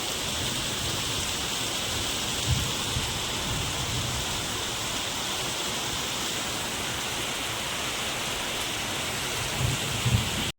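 Heavy rain pours steadily in a dense, even hiss, with a couple of faint low thumps, no voices.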